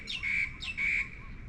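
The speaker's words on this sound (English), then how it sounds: "Sounds of the birds." Two sharp, squawking bird calls ring out along the coast at Hua Hin, Thailand, each lasting a few tenths of a second, loud and fairly near over a low background rumble.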